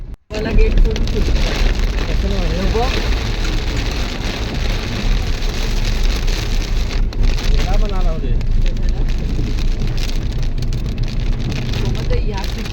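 Heavy rain pours down in a village, a loud continuous roar of drops drumming on surfaces that lasts throughout, with a person talking underneath.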